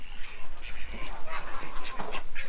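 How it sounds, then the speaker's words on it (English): Rapid, loud quacking from a call duck, a bantam breed, in a quick stuttering series of harsh calls, close by. "Look at that little call duck. Looks like a little mallard."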